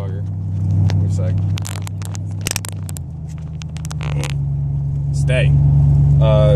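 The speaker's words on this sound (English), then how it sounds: "And there's a Corvette. A very quiet Corvette." A Corvette passes by quietly, a low steady engine hum that swells slightly and shifts pitch midway, under nearby talk and occasional clinks.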